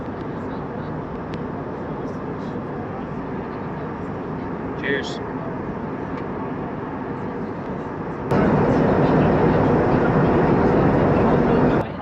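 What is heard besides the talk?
Lufthansa airliner cabin on approach to Sylt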